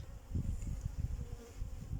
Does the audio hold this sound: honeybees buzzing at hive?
yes